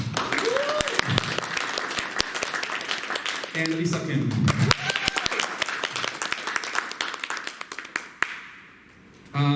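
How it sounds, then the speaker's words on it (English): An audience at a community candidate forum bursts into brisk applause for the candidates, dense sharp claps running for several seconds beneath a speaker's voice before fading out near the end. "let's give a big round of applause to our candidates"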